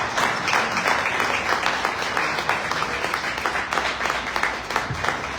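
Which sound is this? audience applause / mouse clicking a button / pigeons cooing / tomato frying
audience applause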